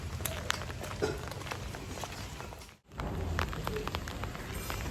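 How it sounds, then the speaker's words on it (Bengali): Light drizzling rain on a rainy day outdoors, a dense steady patter of drops with scattered crisp taps, cutting off briefly midway before resuming at the same close, even level, no voices. "ফাইনালি টিপটিপে বৃষ্টির মধ্যে"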